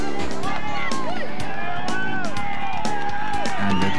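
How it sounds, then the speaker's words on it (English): Roadside crowd at the 1998 Tour of Flanders finish, shouting and cheering as Johan Museeuw rides toward the line, a loud continuous roar of voices and whistles with a commentator talking over it. "the crowd just shouting down the ears of Johan Museeuw"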